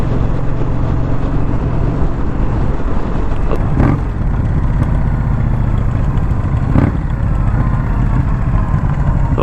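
A 2021 Indian Scout Bobber motorcycle engine rumbles loud and close while riding, a steady low drone with a couple of brief gear-change surges.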